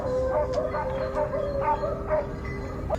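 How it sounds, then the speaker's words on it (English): A pack of hunting dogs at the edge of a forest barks repeatedly in short overlapping yelps, moderately close, over steady outdoor background noise. "the pack of hunting dogs bolted off."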